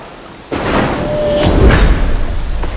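Heavy rain pours down, and a sudden loud thunderclap cracks and then rumbles low and close over the downpour. No speech is heard.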